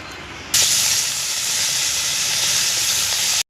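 Small bhola fish frying in hot oil, a loud steady hiss that bursts in abruptly after a quieter start and holds evenly to the end, with no voices.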